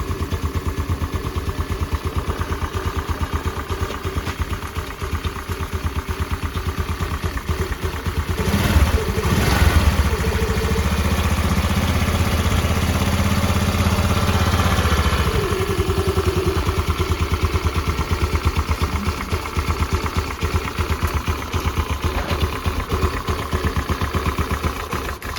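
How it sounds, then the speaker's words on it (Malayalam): A rebuilt Honda Activa scooter engine idles close by with a steady, even putter. It rises briefly in pitch and loudness midway, then settles back to a smooth idle. "നല്ല സ്മൂത്ത് ആയിട്ടാണ് എൻജിൻ റൺ ചെയ്യുന്നത്"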